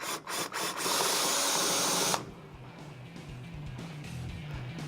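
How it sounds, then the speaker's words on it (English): A drill bores out rivets holding brake lines to an old car trailing arm, a loud steady whine for about two seconds that then cuts off, leaving quieter shop noise with faint low rumbles. "I'm going to go ahead and drill out these rivets to detach the brake lines from the old trailing arm"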